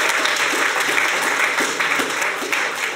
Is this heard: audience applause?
yes